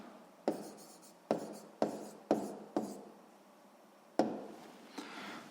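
A pen writes by hand while solving a sixth-grade math exercise, making about seven distinct scratchy strokes at uneven intervals, each a short, close, crisp stroke, with no talking.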